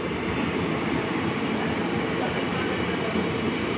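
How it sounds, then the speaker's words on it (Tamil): A dense, steady low rumble of a passenger train slowly departing a station, continuous and fairly loud with no clear breaks. "ட்ரெயின் அப்படியே மெல்ல மெல்லமாக ஃபாஸ்ட் ஆகும் மூவ் ஆகும்"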